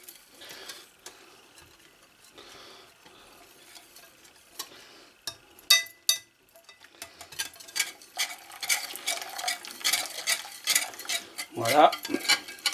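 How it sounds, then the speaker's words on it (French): Hot milk with melted butter being stirred into cannelé batter produces irregular utensil clicks and scraping against a bowl, sparse at first and growing busier and louder toward the end. "Je continue à y verser mon lait chaud. Mon lait avec le beurre, bien sûr."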